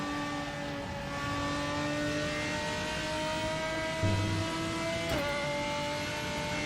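A race car engine in the RaceRoom racing game drones at steady revs with a whining, harmonic tone, shifting pitch briefly near the end, no voices.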